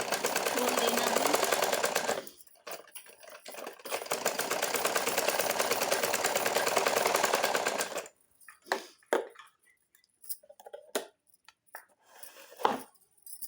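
A sewing machine stitches a double seam on a matka-style gathered neckline with a belt, running in two steady bursts of rapid needle clatter, then stopping for quieter handling clicks and a few short taps.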